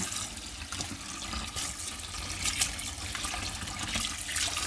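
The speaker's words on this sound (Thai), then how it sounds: "ส่วนปลาที่เขาแช่น้ำเกลือแล้ววันนี้เขาเอามาล้างเลยจ้ะล้างให้สะอาดเลยจ้ะประมาณสองน้ำจ้ะ" Brine-soaked mackerel being rinsed clean in water, a steady wash of running and splashing water with a few louder sloshes, close by and continuous, with no voices.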